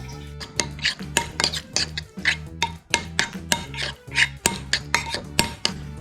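A spoon mixes mayonnaise with labneh and onion tomato masala in a bowl, a busy run of close, sharp clinks and scrapes against the dish, repeating in quick irregular beats.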